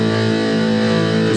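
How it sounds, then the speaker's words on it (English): A Roland Cube 30 guitar amplifier switched to its distortion channel, giving a dense, sustained, heavily overdriven tone that rings steadily with no talk over it. "we can switch over to the other channel, which gives you distortion"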